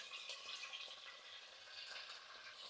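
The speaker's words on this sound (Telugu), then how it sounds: "సో ఆయిల్ అయితే హీట్ అయిందండి ఇక్కడ పాయకాళ్ళు అయితే వేసేస్తున్నాను" Mutton trotters and bones fry in hot oil with a soft, steady sizzle and faint crackle throughout.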